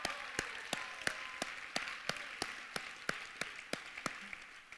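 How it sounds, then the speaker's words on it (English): Steady rhythmic clapping at the Do Good Challenge finals, applause for the finalists and showcase teams with sharp, evenly spaced claps over a soft crowd background, continuing for several seconds. "Let's give one more big round of applause for all our finalists and showcase teams."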